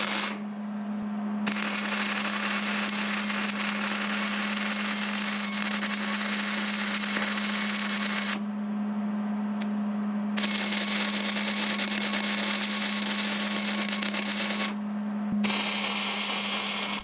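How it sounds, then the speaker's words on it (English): A Hobart 210MVP MIG welder welds wheel mounts onto workbench legs, giving a loud, steady crackling buzz in three long bursts separated by brief pauses. "Now I'm going to go ahead and weld the three sides that I can easily reach with this upside down"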